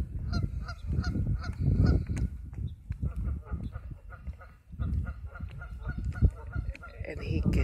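A young goose gives a run of repeated honks, close and fairly loud, in uneven bursts with short pauses between calls and some low background noise.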